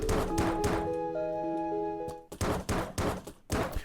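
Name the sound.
enemy shooting at player in video game Environmental Station Alpha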